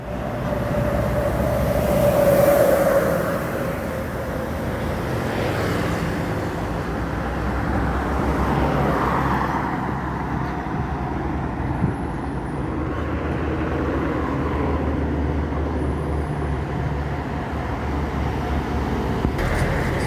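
A heavy tronton truck rumbles past on a Sumatra road, a loud broad roar that swells early and then settles into a steady drone of passing traffic.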